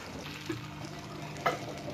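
Teriyaki salmon fries in a hot pan with a soft, steady sizzle, quiet and close, broken by a couple of small clicks from the pan or utensil.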